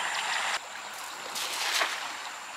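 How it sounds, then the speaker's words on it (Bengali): Incoming tide water rushes along the bank of the Hooghly River in the morning, a loud, close, continuous broadband wash that surges and swells midway with no voices. "জোয়ারের জলের আওয়াজটা শুনে আপনারা বুঝতে পারছেন যে কতটা জোরে জল ঢুকছে।"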